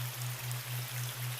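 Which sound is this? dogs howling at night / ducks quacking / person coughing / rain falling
rain falling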